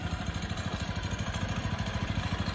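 A Honda Spacey 125 scooter engine running at idle, a steady rapid chugging putter with a faint clattery edge, heard alone and fairly quiet.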